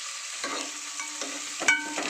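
Chopped onions fry in oil in a pan while making street-style masala puri, a soft steady sizzle broken by a few scraping stirs, close and moderately quiet with no talking.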